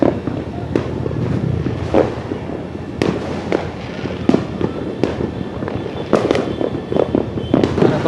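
New Year's Eve fireworks and firecrackers go off in a steady barrage of sharp bangs and crackles, some close and loud, others farther off, with people talking underneath.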